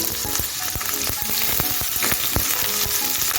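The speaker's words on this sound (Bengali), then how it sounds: "সর্ষেটা তিরিশ সেকেন্ডের মতো একটু ভেজে নিচ্ছি" Mustard seeds and chopped ginger fry in hot oil in a pan, giving a steady, close sizzle broken by sharp crackles and pops as the seeds burst, with no talking.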